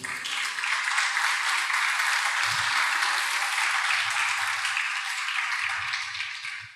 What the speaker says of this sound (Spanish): Da una ofrenda de palmas al Señor por eso